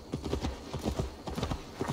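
Horse hooves clip-clopping at a steady walking rhythm in the video game Assassin's Creed Valhalla, a close, loud run of hoof beats with no speech.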